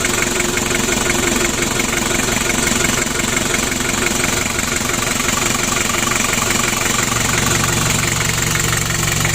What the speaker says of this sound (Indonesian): Lanjut kita panasi dan kita hidupkan. Oke Le, coba dipanasi Le. Untuk mesinnya sudah hidup.